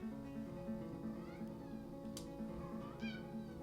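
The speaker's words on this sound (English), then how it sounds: "I don't know if you guys heard that, but that was my cat." A fuzzy Persian cat meows a few times, short rising and falling cries set against a steady droning tone and low background hum indoors.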